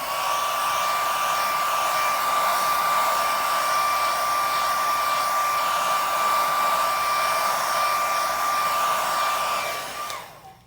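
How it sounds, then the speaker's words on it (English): A blow dryer runs on low speed over a fresh acrylic pour painting, a steady close whirring roar with a constant whine that holds for about ten seconds before it switches off abruptly. "take your blow dryer on low speed and just run it over there to help the cells"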